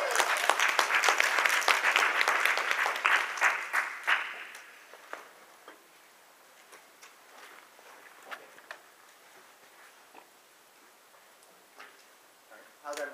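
An audience at a same-sex marriage debate claps loudly to welcome the debaters for about four seconds, then the applause fades to scattered claps and faint clicks in a quiet room.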